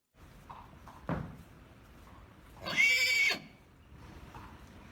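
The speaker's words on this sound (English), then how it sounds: "This is a minute and 35 of a horse crying." A colt whinnies once, loud and close, a brief high shrill call rising over quiet background noise, with a thump just before it.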